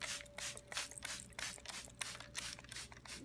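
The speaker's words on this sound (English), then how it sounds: "I spray them with water" Repeated bursts of hissing spray from a water spray bottle onto food, several quick squirts in a row at close range, with a faint steady hum underneath.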